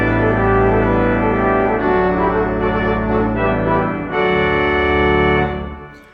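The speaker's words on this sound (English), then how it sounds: "a full-blooded, good old-fashioned Harrison & Harrison high-pressure tuba." A Harrison & Harrison high-pressure tuba stop on a pipe organ blares loud, brassy held chords that change harmony several times, then stop abruptly and fade away at the end, with no talking.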